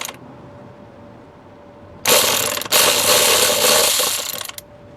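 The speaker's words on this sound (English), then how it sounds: "I'll just switch to my number 10 socket, 10 millimeter. And we're going to get these bolts off." A ratchet with a 10 mm socket cranks on alternator bolts of an Expedition, giving two loud bursts of rapid clicking up close, a short one then a longer run, with quiet between.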